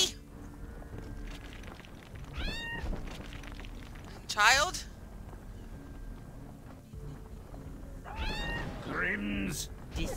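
Short cat meows from the video game American McGee's Grimm rise and fall twice amid background game sounds, one clear cry near the middle and another cluster toward the end, with a voice talking over parts.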